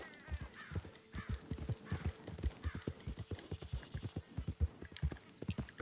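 Horse hooves clip-clopping in Red Dead Redemption 2, a steady trotting rhythm of close, distinct hoof strikes over a few seconds, with faint background ambience and no speech.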